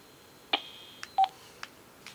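A telephone keypad is dialed to call someone back, a handful of distinct touch-tone beeps spaced irregularly over two seconds, close and clear against quiet background.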